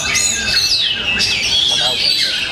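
An oriental magpie-robin (kacer) sings in loud, bright bursts of whistled and chirping phrases, close by, with people talking underneath.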